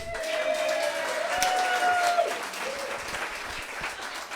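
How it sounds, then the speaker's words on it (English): An audience at an annual See and Learn event presentation by turtle experts applauds in a steady, full wash of clapping, fairly loud, with a faint whistle or tone riding over it. "we need to give a big round of applause to Lynn and her crew."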